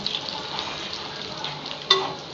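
Garlic and ginger fry in hot oil with a steady, close sizzle and light crackle that holds throughout, with a brief clink of a utensil near the end.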